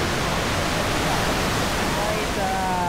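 A waterfall at Ditumabo Mother Falls in San Luis, Aurora, gives a steady, close, full-bodied rushing roar of falling water. It holds evenly through the whole stretch with no break.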